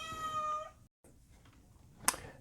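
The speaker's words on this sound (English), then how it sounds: "My cat, I made the mistake of letting my cat in here, and she's being extremely feisty." A pet cat meows close up at a desk, one drawn-out tonal meow at the start, then a short pause and a quieter stretch of shuffling, ending in a sharp brief squeak-like cry.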